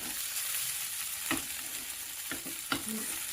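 Leftover cooked rice mixed with chopped coriander for mini idli being stirred in a pan, a soft sizzling bed broken by a few distinct scraping strokes of a spoon, close by and without speech.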